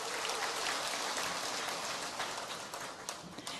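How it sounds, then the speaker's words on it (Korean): An audience at a product lecture event gives steady, dense applause from many hands, loud at first and thinning slightly toward the end. "박수 부탁드립니다."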